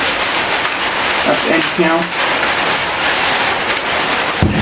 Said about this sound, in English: Sorry the audio is bad because of it raining